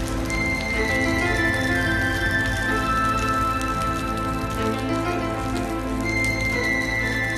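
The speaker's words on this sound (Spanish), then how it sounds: "se aprecia cómo la lluvia cae con fuerza en el asfalto" Heavy rain pours steadily onto asphalt, a dense continuous hiss of drops close by with no pauses and no voices.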